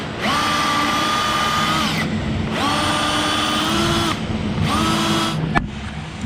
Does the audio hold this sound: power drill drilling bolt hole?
yes